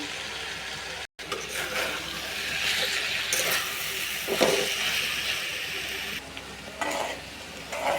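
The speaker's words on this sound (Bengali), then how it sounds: "ভাজে মধ্যে ডিম দিয়ে দিতেছি" Egg frying in a pan, a loud broad hiss of hot oil running steadily with brief dips and some watery bubbling and scraping, heard close with no talk.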